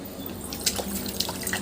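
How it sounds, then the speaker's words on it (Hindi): Small, light splashes and drips as a young girl plays in water outdoors in a Chhattisgarh village, soft scattered plops over a steady low background hum. "पानी में खेल रही है, खेल रही है ये। ऐसे छम छम कर दे तो"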